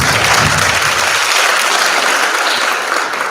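Loud, sustained applause from an audience at a 2024 candidate forum in a performing arts center, filling the hall evenly and tapering slightly at the end.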